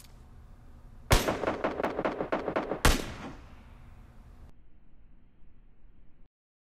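Gunfire in PUBG Mobile: a rapid automatic burst of about ten close, loud shots, then a single heavy shot whose echo fades into quiet.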